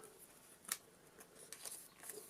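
Yu-Gi-Oh cards in plastic sleeves shuffled by hand, giving faint, quick papery-plastic riffles and scrapes with a sharper snap near the start and a few softer bursts later, close and quiet, with no talking.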